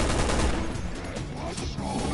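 Rapid gunfire from the video game Resident Evil 6 rattles in quick, dense bursts throughout, moderately quiet and slightly muddied under a faint murmur of voices.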